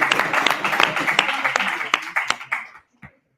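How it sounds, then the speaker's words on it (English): Students in a course pitch session give a short burst of scattered clapping mixed with a cheering voice, the claps thinning out and fading to near silence after a couple of seconds. "So give yourselves a round of applause."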